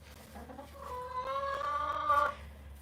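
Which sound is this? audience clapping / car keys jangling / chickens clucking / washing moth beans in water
chickens clucking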